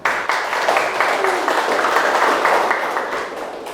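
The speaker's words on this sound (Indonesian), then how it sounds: "Oke, tepuk tangan untuk kita semua ya." Short burst of classroom clapping as a teacher's students applaud together, a fairly close, dense patter that rises quickly and holds steady for a few seconds.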